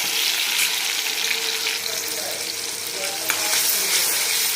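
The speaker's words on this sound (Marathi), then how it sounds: "एक टोमॅटो कट तो टाकतो आणि छान मिक्स करून घ्यायचं एक दोन मिनिट आपल्याला तेलावर परतून घ्यायचं आहे" Chopped tomato being stirred and sautéed in hot oil, a loud continuous sizzle up close with occasional stirring scrapes and a faint clink, with no talking.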